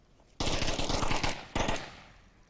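Rapid automatic gunfire in the VR shooter Onward during a competitive match: a long loud burst, a short pause, then a second burst tailing off, with no talk over it.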